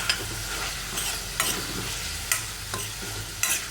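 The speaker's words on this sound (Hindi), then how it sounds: "जीरे को भी तड़कने देंगे" Cumin seeds crackle in hot oil for a gravy base, a steady close sizzle broken by sharp scattered pops, with no voices.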